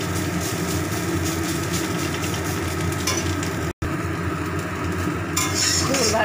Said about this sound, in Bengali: ভাজা প্রায় হয়ে এসেছে।